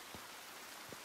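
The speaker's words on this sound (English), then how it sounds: "It's pouring rain." Steady pouring rain inside a video game, a soft continuous hiss of rainfall on surfaces with no talking, plus two faint low thumps.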